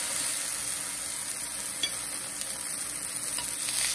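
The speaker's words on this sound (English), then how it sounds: "I'm going to char my lemons first. Just gonna give them a quick" Lemons char in olive oil in an iron skillet over medium-high heat, producing a steady, close, crackling sizzle with faint stirring throughout.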